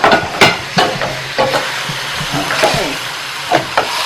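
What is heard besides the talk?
stirring chopped garlic frying in a pan with pork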